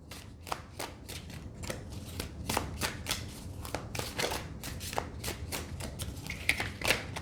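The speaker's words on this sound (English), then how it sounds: "we're going to just shuffle 1 or 2 more times" Rapid, rhythmic riffling and flapping of tarot cards being shuffled up close, repeated in quick bursts, with no talking.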